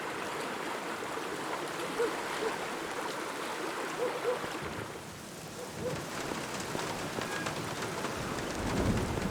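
Steady rain falls and patters on surfaces in a continuous hiss, with low rumbling underneath and brief faint voices.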